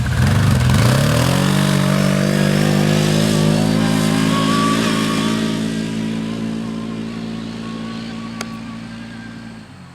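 The engine of a Can-Am Commander XT 1000 side-by-side revs up quickly from a low idle, then holds a loud, steady drone that slowly fades as the machine moves away, with a brief click near the end.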